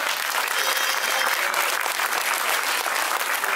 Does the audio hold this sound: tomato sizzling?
no